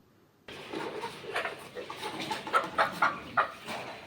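A hen and rooster clucking in a short run of bright calls over a busy farmyard background, moderately close.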